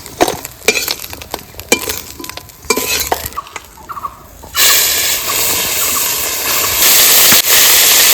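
Puti fish frying in a pan for crispy puti, a loud steady sizzle that starts suddenly partway through after a stretch of quieter stirring and clatter, then continues alone.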